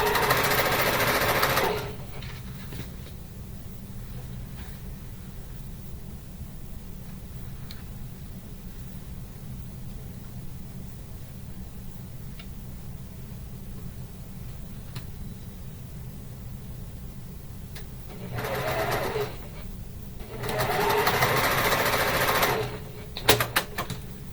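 A sewing machine runs steadily, stitching quilt pieces together with a quarter-inch seam for a spring mystery quilt, with louder bursts of handling noise near the start and end and no talk.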